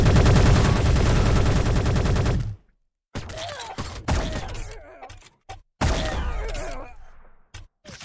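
Rapid bursts of automatic gunfire from the video game Call of Duty, dense and loud for about two and a half seconds, then a few sharper, sparser shots and clatters separated by brief silences.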